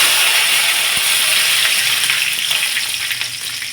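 Cumin and cut curry leaves hit hot oil with mustard seeds and start sizzling loudly, a close, dense crackle that holds steady throughout, with a brief stir.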